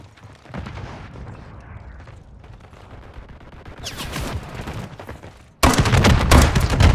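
Video-game gunfire from a Glock pistol, with loud broadband shots in the second half culminating in a dense, sustained burst of firing near the end, over a low rumbling game soundscape.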